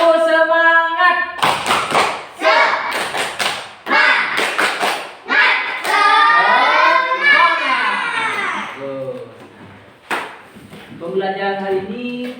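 Schoolchildren perform a spirited clapping chant in class, bursts of rhythmic clapping alternating with a teacher's voice and the children chanting and shouting together, close and loud.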